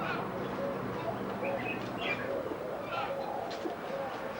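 A parrot at a snake and bird park gives short repeated calls and coos over a busy outdoor background, with people talking nearby.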